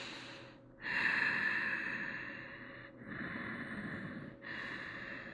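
Slow, deep breaths through the nose during a yoga crescent lunge, three long, steady airy exhales close to the microphone, separated by short pauses.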